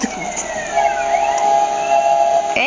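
A police car siren in the multiplayer driving game MTA wails loudly and close, its tone sweeping steadily over engine rumble, with a brief interruption near the end.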